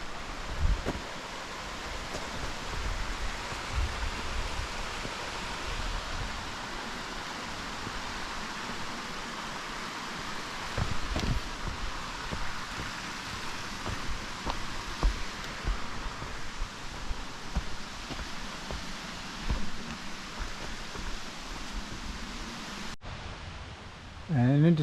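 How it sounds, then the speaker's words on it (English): A mountain brook in New Hampshire's White Mountains, heard as a soft, steady rushing wash of flowing water that stays constant at moderate level throughout. "Getting closer to the brook, it's a welcome sound."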